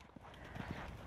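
Hoofbeats of a horse in a medium canter around an arena, a short, close burst of rhythmic thuds.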